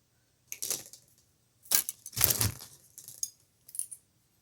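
Wire cutters snip black 18 gauge aluminum wire into pieces for a leather wire-wrapped bangle. Several short, sharp clicks and metallic snips come in separate bursts, close up, with quiet gaps between them and no talk.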